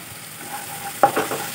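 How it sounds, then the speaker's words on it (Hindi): Onions frying in a pan, with a faint steady sizzle and a few short stirring scrapes near the end. "ये तो प्याज भून गई है"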